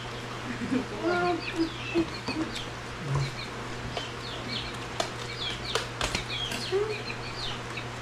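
Chickens cluck and squawk in short bursts amid outdoor farmyard ambience, with a steady low hum underneath and a few sharp knocks.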